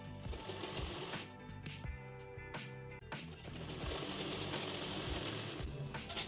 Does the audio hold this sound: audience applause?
no